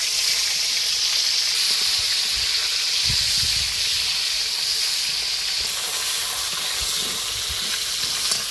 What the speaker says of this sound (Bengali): তেলটা গরম হয়ে গেছে, এবার কাতলা মাছের তেলটা দিয়ে দেবো, ভালো করে ভেজে নিতে হবে